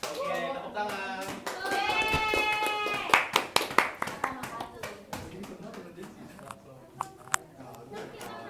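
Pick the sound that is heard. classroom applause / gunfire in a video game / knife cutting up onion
classroom applause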